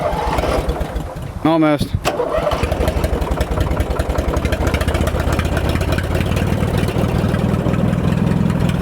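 A Kohler Command engine on a Ford Wheelers tractor cranks briefly, then catches and settles into a fast, steady idle with a dense chugging rhythm, loud and close, while someone speaks.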